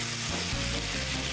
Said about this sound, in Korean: 들리시나요? 이 지글거리는 소리.